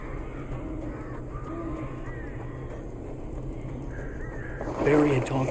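Crows caw repeatedly in the eerie outdoor ambience of the video game Alan Wake Remastered, with harsh calls at a moderate distance and a louder burst of sound near the end.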